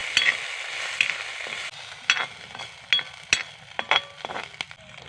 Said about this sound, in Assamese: ইয়াতে মই এতিয়া মিছা মাছখিনি দি দিছো মিছা মাছখিনি মই এতিয়া অকমান টাইম ভাজি লম